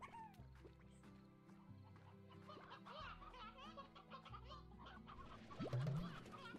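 Chickens clucking inside a chicken house on a ranch, several birds making overlapping, fairly close clucks and squawks at a low, continuous level, with one louder call near the end.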